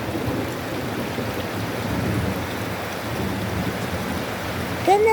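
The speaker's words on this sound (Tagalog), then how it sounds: "It's raining." Rain falls steadily outdoors, a dense, even hiss of drops on surfaces. A short voice-like sound rises at the very end.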